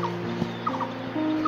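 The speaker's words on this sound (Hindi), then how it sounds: "पक्षियों की मीठी आवाज़ गूंज रही थी। मोनाल अपनी मधुर धुन छेड़ रहा था।" A Himalayan monal pheasant calling in a hill forest, a few short call notes at mid distance over a steady tonal background hum.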